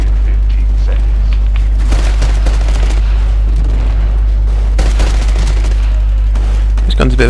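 Smart pistol fire in Titanfall on the Airbase map crackles as rapid bursts over a constant low rumble of battle noise, loud and close with repeated volleys.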